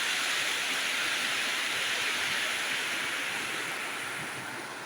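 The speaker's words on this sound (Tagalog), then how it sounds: "Kasi dito masyadong malakas yung agos at saka doon malalim." Strong river current rushing, a broad steady roar of flowing water, loud and continuous, fading slightly toward the end, with no voices.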